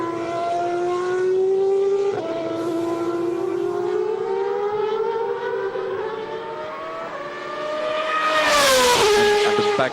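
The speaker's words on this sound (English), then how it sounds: "These are still warm-up laps by both drivers." A Superleague Formula race car screams through a warm-up lap at the Nurburgring, its high engine whine rising steadily through the gears, with a sharp shift and a loud close pass near the end.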